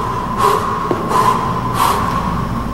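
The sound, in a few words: rapid heavy breathing during a workout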